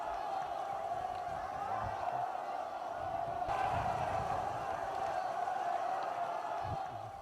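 A crowd of march participants shouts massed hurrah cheers on snowy Mount Paektu, a sustained, dense roar of many voices heard at a distance, rising slightly midway and continuing unbroken throughout.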